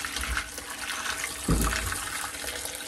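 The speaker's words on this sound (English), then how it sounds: "So I'm just going to add some boiling water." Boiling water poured from a kettle over meat in a foil-lined dish, a steady close splashing pour running throughout with a heavier gush about halfway through.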